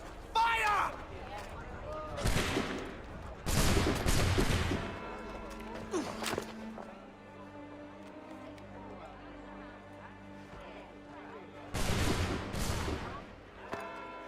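Musket volleys crack out in the video game Assassin's Creed 3, several loud bursts of gunfire spaced across the scene, with shouted voices and a low droning score between them.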